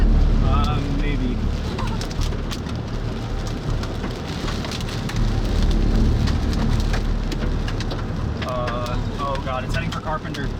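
Rain and hail pelt a car during a tornado chase near Carpenter, Wyoming: a constant loud drumming patter on the roof and windows with sharper scattered impacts, while people talk inside the vehicle.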